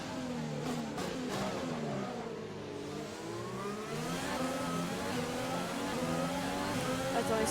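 In F1 2020, a race car accelerates with overtake boost, its engine whining and rising in pitch through the gears, fairly quiet and steady, with no voices.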